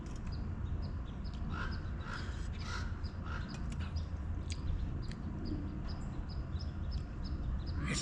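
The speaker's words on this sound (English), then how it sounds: "except for the crows" Crows caw repeatedly in short bursts from a distance at the Grand Canyon, Arizona, over a quiet, steady outdoor background.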